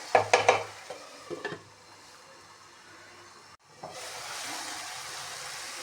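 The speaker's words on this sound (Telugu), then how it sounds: "అలా ఆయిల్ మొత్తం బాగా సపరేట్ అయిన తర్వాత ఇలా ఒకసారి కలుపుకోవాలి" Mushroom curry gravy stirred as it sizzles in separated oil in a pan, with a few clattering scrapes of the spoon at first, then a steady close frying hiss that continues alone.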